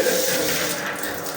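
A newly installed shower at a Manila hotel renovation runs during a plumbing test, giving a steady broadband rush of spraying water, close and fairly loud throughout the brief moment.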